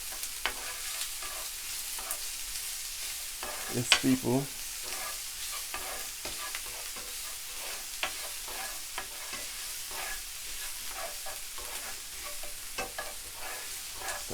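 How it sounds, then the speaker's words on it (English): Onion sizzles and fries in a pan for a quick minced-beef baguette, a steady broadband hiss throughout with scattered spatula stirs and a brief louder scrape near the middle; a voice speaks faintly. "Let my onion burn off for around a minute."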